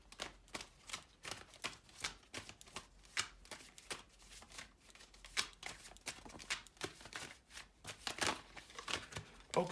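Moonology Oracle cards being shuffled by hand, a dense run of crisp riffling flicks and soft slaps repeating steadily for the whole stretch, close and fairly quiet with no talking.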